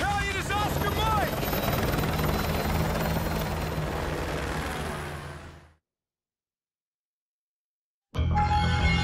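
Military helicopter flying in the Call of Duty Modern Warfare video game, a loud steady rotor roar with rhythmic blade chop, then a sudden cut to silence before the engine noise returns abruptly near the end.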